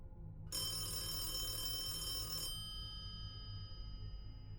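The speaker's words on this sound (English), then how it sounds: "The payphone then rings." A payphone rings with a single bright, metallic bell burst of about two seconds, close and fairly loud, then cuts off leaving a low hum.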